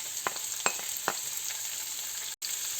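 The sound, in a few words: onions and capsicum frying in oil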